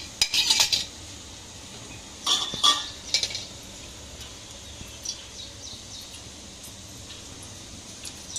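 A metal cooking pot is set back on a lit stove in a home kitchen while making peanut chutney, giving a few sharp clanks and clinks in short bursts followed by near quiet.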